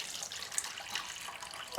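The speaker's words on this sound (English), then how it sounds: "So I'm going to add hot water" Hot water pours and trickles into a pot holding small sterilized canning jars, a quiet watery splashing with a few light drips, close by and without talk.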